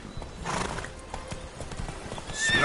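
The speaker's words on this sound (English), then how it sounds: "Spooking my horse." A horse whinnies over hooves clopping at a steady walk in the video game The Witcher 3: Hearts of Stone, close and moderately loud, with a rising neigh near the end.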